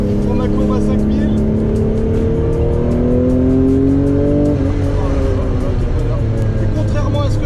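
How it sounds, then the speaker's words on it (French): A car re-accelerates in second gear out of a curve, its engine note climbing steadily and loud from inside the cabin before a brief dip near the end, with wind and road roar throughout. "Là je sors d'une courbe, je suis en deuxième, je réaccélère."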